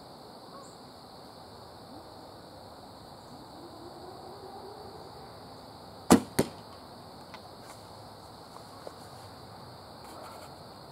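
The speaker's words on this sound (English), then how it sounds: "I'm shooting directly over top of the camera into the target." A Black Eagle Vintage 400 arrow, 34 inches long with a 150-grain point, loosed from a traditional recurve or longbow strikes a target with a sharp double impact near mid-clip, followed by a few faint ticks over quiet outdoor ambience.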